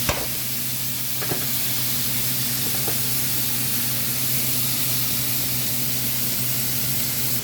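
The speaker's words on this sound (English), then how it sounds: "Getting ready to flip my chicken." Chicken frying in a pan with herbs, a dense, loud, continuous sizzle and hiss up close, with a few faint clicks near the start and no talking.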